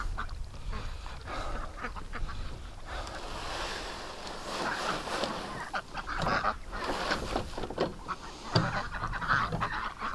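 Ducks near a pen quack and honk in scattered, overlapping bursts over a steady outdoor background, some calls close and others farther off.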